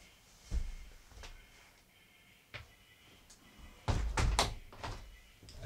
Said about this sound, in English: I need to close this door.